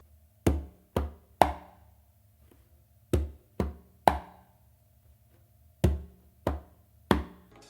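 A conga plays a tumbao, a bass tone followed by a finger stroke and a sharp close slap from the dominant hand. Three groups of three crisp hits ring out near and clear against near silence.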